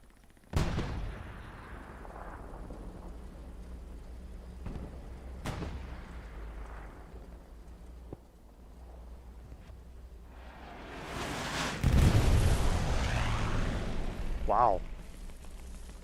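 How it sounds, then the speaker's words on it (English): Precision-strike explosions land on an SPA in Hell Let Loose on the Kursk map. Several loud booms are spread out, followed by a heavy rumbling barrage with crackling debris, all alone with no talk. "Precision strike goes in on the SPA back here."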